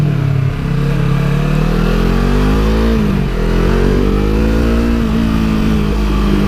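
A Yamaha R3 sport motorcycle engine revs loudly and steadily close by as the bike rides off, pitch rising and dipping through the throttle, with no voices.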